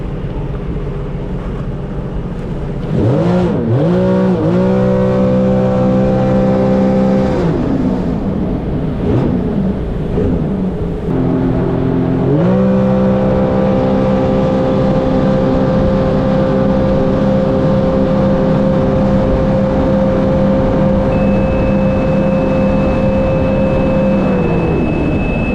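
A 2021 Sea-Doo GTI SE 170 personal watercraft with a Rotax engine, switched into sport mode, revs loudly in repeated bursts and then holds a long steady high-pitched drone close by, with no talking.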